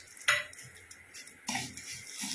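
Spoon stirring vermicelli kheer with raisins and dry fruits in a pan, soft scraping and clinking against the metal, one sharper knock, quiet and close without voices.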